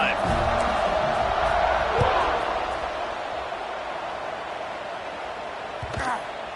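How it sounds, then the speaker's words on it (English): A stadium crowd at an Oklahoma–Indiana college football game roars loudly and steadily, easing slightly toward the end, with a brief swell of cheering near the close. "this crowd is feeling themselves after that last drive"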